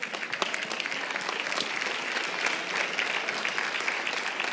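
A church congregation applauds in a dense, steady round of clapping that lasts several seconds at moderate loudness, with no voices rising above it.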